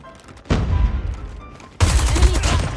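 Bursts of automatic gunfire from a Krig 6 rifle in Call of Duty Mobile, two loud sustained volleys close by, the second heavier and continuing to the end.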